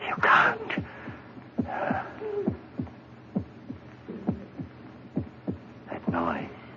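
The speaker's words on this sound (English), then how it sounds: "That noise. Hear it? It's your heart. Beating, pounding, driving the blood through your veins." A radio drama heartbeat effect plays as a series of soft, low thumps in an irregular throbbing rhythm, close and moderate in volume, with breathy vocal sounds mixed in.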